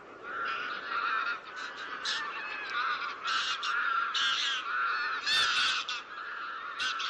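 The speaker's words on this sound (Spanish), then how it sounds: "ninguna es tan espectacular y numerosa como el ganso común" Greylag geese at the Villafáfila reserve keep up a dense, continuous chorus of honking, many birds calling at once from nearby with overlapping nasal calls and no pause.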